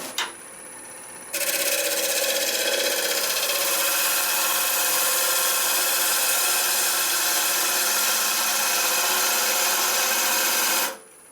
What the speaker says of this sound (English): Notice I've moved up to a bigger tool, 5/8 ball gouge, because of the overhang.